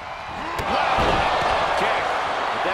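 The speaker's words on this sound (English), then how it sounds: "The sound of this crowd is deafening" Loud wrestling arena crowd at a Survivor Series championship match, a dense sustained roar of cheering that swells after the first moment, with a commentator's voice partly heard over it.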